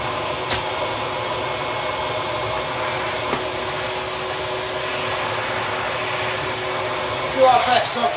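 A Hoover Portapower S1248 portable vacuum cleaner runs steadily with a constant high whine and airy hum, close and even, with a short rustle of the hose near the end and no talking.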